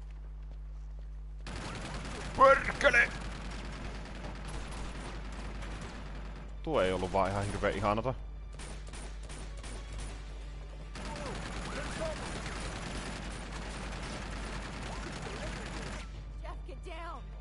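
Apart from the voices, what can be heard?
gunfire in the video game UC2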